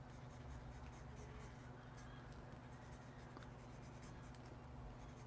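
Mechanical pencil with 0.3 mm HB lead drawing on paper, a steady faint scratchy scraping with small quick strokes, close and quiet against a constant background hum.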